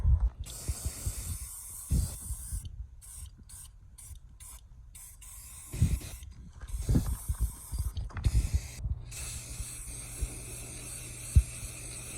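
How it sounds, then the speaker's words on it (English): Aerosol spray paint hisses onto a hay wagon in several short bursts and one longer blast, separated by quiet gaps and light handling clicks. "So I'm gonna hit that real quick and spray some paint."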